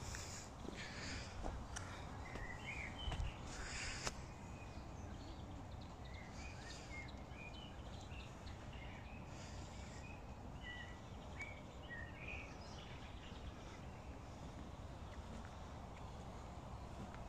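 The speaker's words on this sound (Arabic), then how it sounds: "طول الطريق، صوت الطيور." Scattered bird calls and chirps sound faintly along a tree-lined road leading to Ulriksdal Palace near Stockholm, over a steady outdoor background with a few brief louder knocks near the start.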